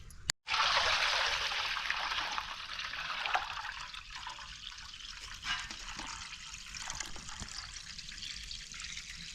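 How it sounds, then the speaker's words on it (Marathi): Water pours and trickles steadily, with a soft splashing swish that fades to a quieter flow as soaked wheat is rinsed in a container. "गहू आता व्यवस्थित धुवून घेतला आता पाणी घालून ठेवू"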